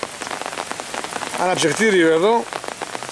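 Steady rain patters on tent fabric at a crowded shelter, a dense continuous hiss throughout, with a voice speaking briefly over it in the middle.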